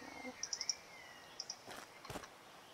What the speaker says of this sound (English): there's bird noises in this game